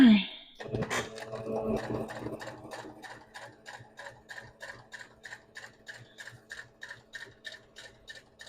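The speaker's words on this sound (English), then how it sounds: "When it comes to stitching with your sewing machine, slow is steady and steady is fast." A sewing machine running straight line stitching, steady rapid rhythmic clicking pulses repeating evenly after an opening moment of louder handling noise, close and fairly loud.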